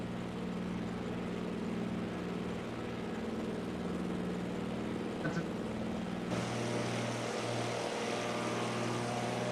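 A de Havilland Beaver propeller plane in Microsoft Flight Simulator drones steadily throughout, its engine hum loud and continuous with a brief shift in tone partway through.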